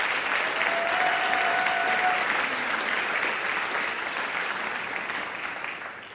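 A sustained round of applause from an audience at a State of the University address, even and fairly distant, gradually thinning toward the end with no speech over it.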